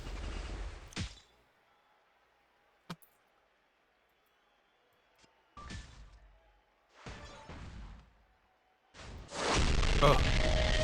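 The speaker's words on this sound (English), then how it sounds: "That's when the board shuffles the gems." Gem board shuffle effect from a mobile match-three wrestling game featuring Sasha Banks: loud, crashing bursts like gunfire or smashing, recurring in several clusters with near silence between them and a dense final burst.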